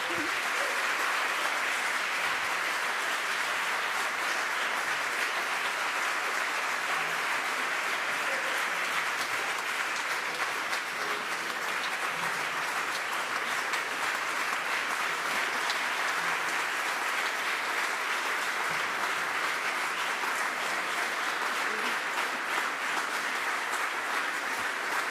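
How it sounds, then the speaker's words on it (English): An audience at an energy infrastructure forum gives a sustained round of applause, a dense, even wash of clapping that holds steady throughout without pause. "I call you to join the round of applause"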